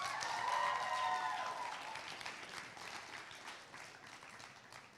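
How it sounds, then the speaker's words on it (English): A graduation ceremony crowd applauding at Mount Sentinel, steady distant clapping that starts fuller and slowly thins out over several seconds, with a brief whistle or cheer near the start. "Let's give them another round of applause."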